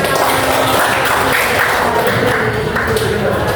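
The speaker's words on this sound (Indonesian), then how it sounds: "Tepuk tangan." Students in a classroom clap for a classmate, a steady, fairly loud spatter of hands that fills the room without pause.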